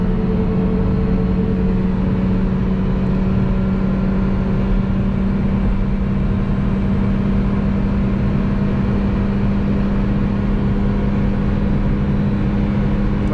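A Ford Fiesta 1.0 sedan engine under full throttle, heard from inside the car as a loud, steady drone that keeps rising, with a strong low hum and continuous road noise and no talk.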